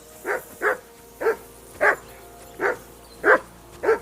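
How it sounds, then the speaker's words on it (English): A dog in the video game Kingdom Come: Deliverance II barks repeatedly, seven evenly spaced woofs at a steady rhythm, moderately close and clear over a quiet background hum. "Whistle at that mutt of yours to stop barking."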